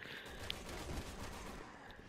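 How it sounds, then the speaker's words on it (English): Gunfire in the video game Resident Evil 6, a dense, faint, muffled crackle of rapid shots heard from a distance beneath a continuous game background, with no talking. "Gunshots. Oh my god."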